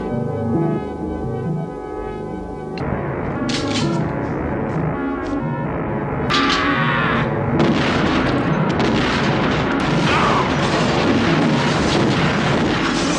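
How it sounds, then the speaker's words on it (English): Shotguns firing during a film shootout, a dense, loud barrage of heavy booms and blasts over a thick, constant rumble of action soundtrack, with no clear speech. "2 of Revok's agents burst in with shotguns. Pierce fires back but is overwhelmed."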